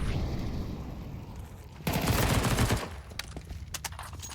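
P90 submachine gun firing in CS2, a rapid, fairly faint burst of automatic shots lasting about a second amid low background game noise, followed by a few scattered sharp clicks and pops.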